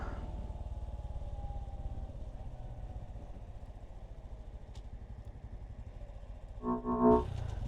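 A Honda Trail 125 motorcycle ridden through Louisville, Kentucky, on a short off-road stretch: a steady, close engine drone runs throughout, with a brief louder clattering burst near the end.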